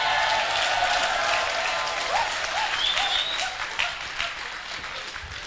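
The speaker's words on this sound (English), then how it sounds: "Clap." An audience applauds at a leadership talk: dense, sustained clapping from a large crowd, loud at first and gradually thinning toward the end.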